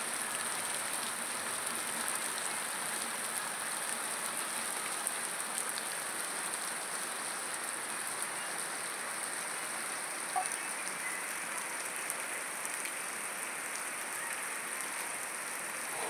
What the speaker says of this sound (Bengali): দেখি হঠাৎ করে এত জোরে বৃষ্টি